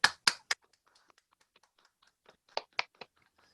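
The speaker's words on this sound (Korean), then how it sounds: "박수로 좀 격려할까요?" Teachers at a church education seminar clap to encourage one another: a few loud, sharp hand claps at the start, scattered faint taps, then another short burst of claps near the end, with no talk.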